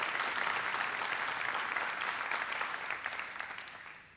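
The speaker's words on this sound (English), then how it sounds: "I'd ask you to give them a round of applause, Finance Committee, for this year." Hall applause at an annual town meeting in Harwich for the Finance Committee: a quiet, continuous crowd clapping heard from a distance that gradually fades out over about four seconds.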